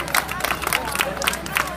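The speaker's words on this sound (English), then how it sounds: "Let's give my staff a strong round of applause." A crowd at a school Eid celebration hosted by the Bronx Borough President claps for the event staff, a steady patter of many hands with faint cheers and crowd murmur mixed in.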